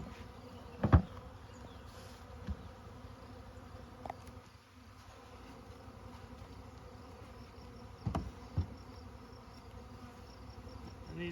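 Honeybees buzzing around an open hive with a new queen, a faint continuous hum with occasional louder bees passing close to the ear, no talking.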